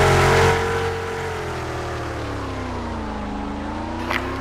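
A car engine drones steadily while driving in a Roblox game, loud and close, with pitch sliding down then gradually rising as it accelerates, plus a brief click near the end.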